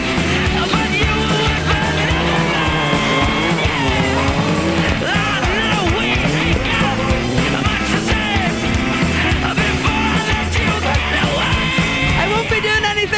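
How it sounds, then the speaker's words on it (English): A world rally car on a spectator stage at the 2004 Rally of the Lakes, its engine roaring loud and continuous with quick revs and possible tyre squeal over steady crowd and road noise throughout. "We're taking the car for a run out just for the spectators to have a look at it."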